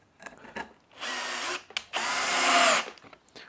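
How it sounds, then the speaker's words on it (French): A Hilti SFE 2-A12 multi-head cordless drill driver drilling a hole: two loud close bursts of whirring motor, the second longer and steadier, with short clicks and handling noises before and between, no voices. "Je peux sans souci percer mon trou"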